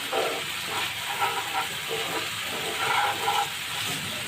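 Onions fry in a mix of refined oil and ghee for an egg paneer biryani, giving a continuous hissing sizzle with soft bubbling pulses at moderate level.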